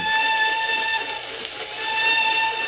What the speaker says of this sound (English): the old whistle do sound eerie tonight, don't she?